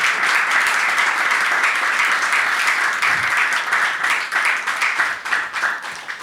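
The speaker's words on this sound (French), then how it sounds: "faites un tonnerre d'applaudissements pour le docteur Pierre Oswald." A theatre-style audience gives dense, sustained applause for about six seconds, loud and steady with no talk over it.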